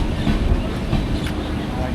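A train slowly pulls into platform 4 at a railway station, a steady low rumble of wheels and carriages with faint clatter and a brief higher squeal.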